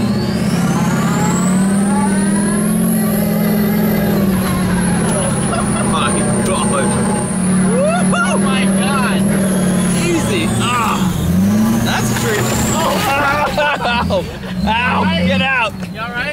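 The Monster Max monster truck's engine revs steadily and loudly at close range while a high whine rises and falls, with people talking over it throughout.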